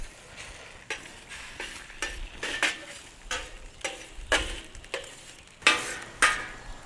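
Eggs cooking on a hot hibachi griddle give a soft sizzle broken by repeated scraping taps of a metal spatula, close and irregular, about a dozen strokes in quick succession.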